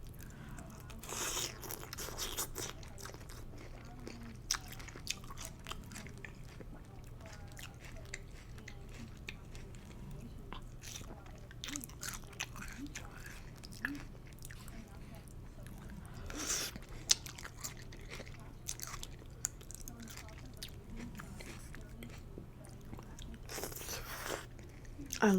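Crunchy chewing and biting while eating instant pho with fresh bean sprouts and cilantro, close and fairly quiet, irregular bites and mastication over a low steady background hum, with occasional crisp crunches.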